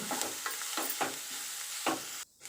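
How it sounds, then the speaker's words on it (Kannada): Garlic and ginger fry in a pan with a soft, steady sizzle, broken by several scraping stirs of a utensil against the pan before the sound cuts off abruptly near the end. "ಬೆಳ್ಳುಳ್ಳಿ ಮತ್ತು ಶುಂಠಿ ಇದೆಲ್ಲ ಸ್ವಲ್ಪ ಹಸಿ ವಾಸನೆ ಹೋಗಿ ಅದು ಪರಿಮಳ ಬರಲಿಕ್ಕೆ ಸ್ಟಾರ್ಟ್ ಆಗ್ತದೆ ಅಷ್ಟು ತನಕ ನಾವು ಇದನ್ನು ಫ್ರೈ ಮಾಡ್ಕೊಳ್ಬೇಕು"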